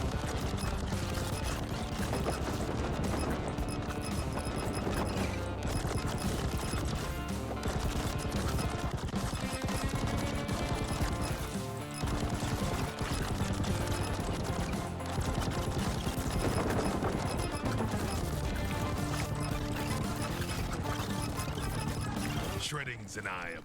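Laser machine guns fire nonstop in the video game Mercenary Battle Company, a dense, loud rattle of rapid shots mixed with explosions and game music, with someone talking over the barrage.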